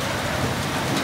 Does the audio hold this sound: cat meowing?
no